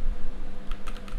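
Quick, light keystrokes tap on a computer keyboard in a steady close run, a few sharper clicks standing out, with no voices.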